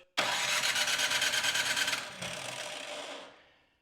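An electric starter cranks the engine of a Troy Bilt 2410 snow blower that will not start, choked and primed at three-quarter throttle: a loud, close whirring crank for about two seconds that then slows and fades out, with no talking.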